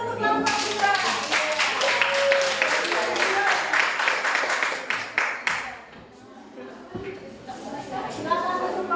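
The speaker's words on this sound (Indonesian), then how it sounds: "Tepuk tangan dulu untuk kelompok 2" A classroom group claps for a second group during a teacher-training session, with a dense burst of applause that thins to scattered claps, followed by voices talking.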